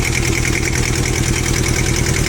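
A Japanese mini tractor with a rotary tiller idles close by in Yakutsk, a steady, loud mechanical chug with an even pulsing rhythm and no voices.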